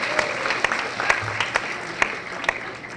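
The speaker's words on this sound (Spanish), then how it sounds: "Un aplauso, por favor." Steady applause from a lecture audience, with sharper individual claps standing out at regular intervals over a continuous wash of clapping.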